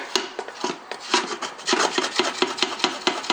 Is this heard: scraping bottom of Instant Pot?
yes